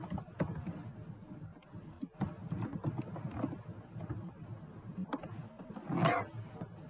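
Close, continuous clicking of computer keyboard keys in irregular bursts while a Python print statement is typed, with a slight clatter near the end and no speech.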